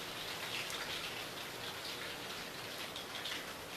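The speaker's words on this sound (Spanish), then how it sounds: "Está cayendo lluvia, está tronando, para por si escuchan ahí otro ruido. Es el viento y la lluvia" Rain pours outdoors during a storm with wind, a constant, close hiss of drops striking surfaces with no breaks and no talking.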